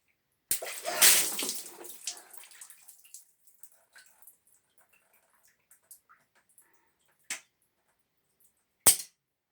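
A water balloon pops sharply close by, followed by splashing water spattering and trickling down, then scattered drips and two more sharp knocks.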